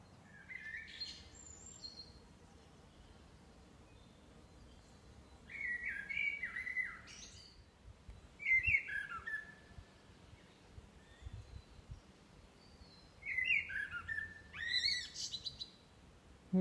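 Bird song rings out in a few separate bursts of bright chirps and whistles over quiet woodland near the River Bollin at Styal, with gaps of near silence between phrases.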